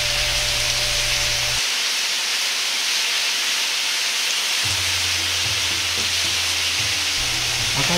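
Steady, loud sizzling and hissing of ginger pork slices frying undisturbed in a hot pan, continuous throughout with a low hum underneath.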